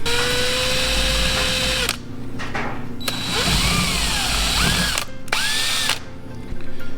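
A power drill enlarges holes in a part for a Predator 212 engine, whining loudly up close in several separate bursts that spin up and wind down with short pauses between them.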